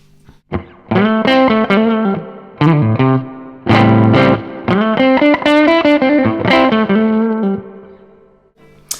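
Overdriven electric guitar, a Telecaster wired as a humbucker through a Marshall Bluesbreaker pedal, plays chords and short riffs with gritty distortion, strummed in bursts with brief pauses between phrases.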